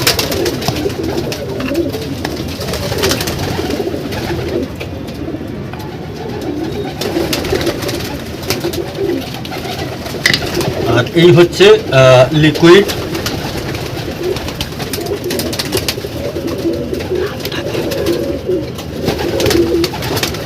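Pigeons from a flock of thirty birds coo in repeated soft, throaty calls close by, with someone talking over much of it.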